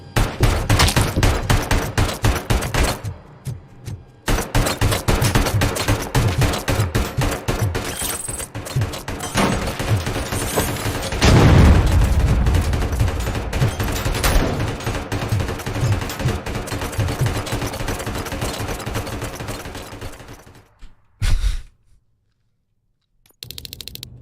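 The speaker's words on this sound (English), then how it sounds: "What are you shooting at?" Video game gunfire bursts in long, dense, loud volleys that drop out briefly near the start and end in silence after a final short burst.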